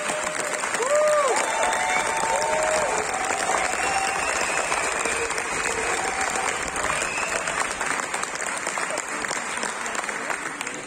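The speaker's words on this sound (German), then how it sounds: "Und jetzt würde ich gerne mal einen Beifall haben für euch." A large outdoor crowd at the e-Cannonball 2021 electric car rally finish area gives dense, sustained applause with some cheering, steady and loud for about eleven seconds, with brief whistles near the start.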